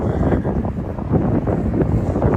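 Wind blowing outdoors on a snowy evening buffets the microphone in a steady, loud low rumble that lasts the whole time, with no talking.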